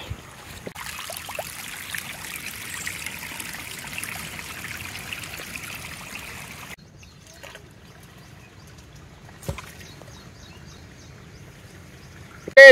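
Water runs steadily in a village stream beside farm fields, a constant trickle for several seconds that then drops away to quieter background with a single sharp knock.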